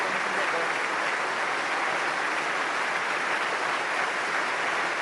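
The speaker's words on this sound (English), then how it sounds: "the crowd here tonight continuing the applause until Danny Brough gets this game in motion" A rugby league stadium crowd at a Huddersfield versus Castleford match keeps up sustained, dense applause in remembrance, a continuous roar of clapping with no let-up.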